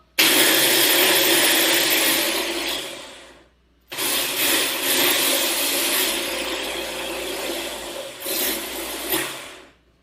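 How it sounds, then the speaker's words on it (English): A blender purees sweet potato with a loud, steady whirring roar, cut off briefly near the four-second mark before starting again and running with slight surges in pitch. "We are going to put this together and we're going to blend."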